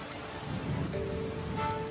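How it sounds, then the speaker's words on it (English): Steady monsoon rain pours down in the highlands and patters on surfaces, a continuous wash of drops without any voices. "when the monsoon clouds finally burst, the highlands are inundated."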